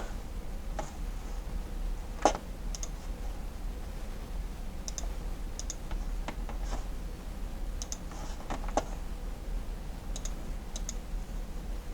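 Computer mouse clicks while working in SolidWorks, sharp scattered single and double clicks at an irregular pace over a quiet low hum, no talking.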